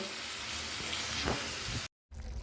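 Chicken frying in a pan with mutton fat, a continuous crackling sizzle with bursts of steam hiss, briefly cut off near the end before resuming.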